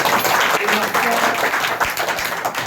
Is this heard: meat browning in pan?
no